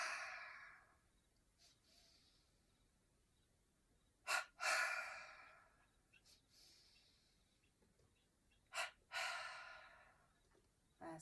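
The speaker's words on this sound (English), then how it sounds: "Once again, long breath or double breath," Slow, deep breathing during energization exercises, long airy inhales and exhales with a pair of quick double breaths, close and soft, repeating alone in a quiet room.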